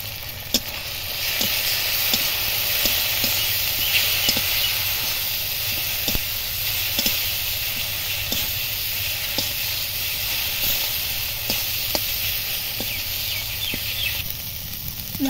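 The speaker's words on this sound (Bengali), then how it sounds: "মশলাটার গা থেকে তেল ছেড়ে দিয়েছে, মশলাটা ভাজা হয়ে গেছে।" A paste of ground ginger and cumin with turmeric, chilli and green chillies frying in oil until the oil separates, a continuous close hissing sizzle with faint regular ticks and pops, no voices.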